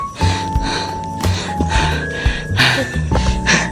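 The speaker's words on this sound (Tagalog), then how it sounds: "Ang maririnig mo lang talaga ay yung hingal mo." A cyclist pants heavily while biking uphill, with repeated loud, close breaths in short bursts and faint steady tones in the background.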